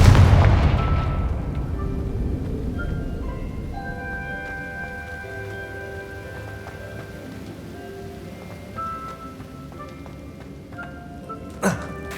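A fire spell bursts into a loud, booming explosion in Hogwarts Legacy, with a heavy blast at the start fading into a long rumbling decay and scattered crackling debris, and a sharp smaller crack near the end.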